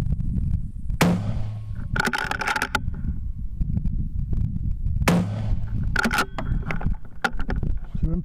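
Two sharp rifle shots a few seconds apart at an outdoor range, each a loud crack followed by a distant impact on the target, set against steady background noise.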